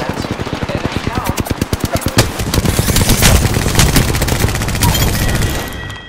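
Loud rapid automatic gunfire in Apex Legends, a fast even burst of shots that builds into a dense sustained volley before trailing off, with a voice speaking underneath.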